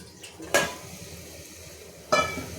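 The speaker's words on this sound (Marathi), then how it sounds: "आता ह्या लक्षावरती मी पुन्हा झाकण ठेवणार आहे आणि झाकणामध्ये थोडं पाणी टाकणार आहे" A metal lid is set on a pot of ridge gourd curry, giving two sharp clanks a moment apart over a quiet kitchen hum.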